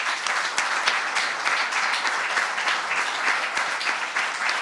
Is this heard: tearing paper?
no